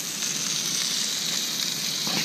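Scallops searing in a hot pan, a dense, steady, loud sizzle close up that holds evenly throughout with no voices.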